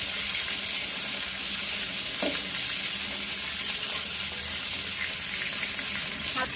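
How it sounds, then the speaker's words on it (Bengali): Chicken frying in a pan gives a steady, loud, close sizzle of hot oil that hisses throughout without pause, with no voices over it. "চিকেনটা একটু ফ্রাই করে নেব।"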